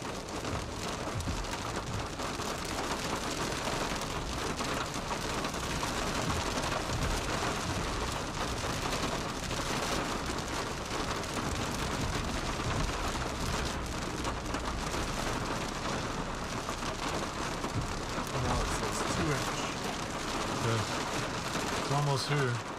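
Large hail pounds down during a storm in the Texas Panhandle, a dense, loud, unbroken clatter and roar of impacts on surfaces, with a voice speaking over it.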